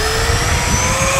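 A radio-controlled Freewing F/A-18 Hornet model jet, flying on a 6200 high-voltage lithium pack without afterburner, gives a steady, loud whining turbine-like roar with a high tonal whistle throughout.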